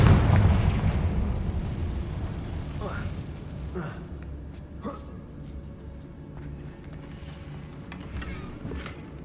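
Spell blasts from Bombarda and Confringo in the wizarding game Hogwarts Legacy, a loud booming burst followed by a long rumbling decay and a few smaller crackling pops, with talk over it.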